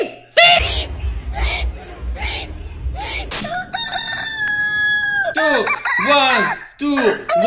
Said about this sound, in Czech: Proč jsou ty slepice ve stromě?